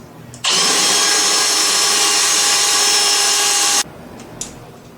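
A power drill with a center drill bit whines at a steady, high pitch for about three seconds, close and loud, then stops abruptly into quiet shop noise.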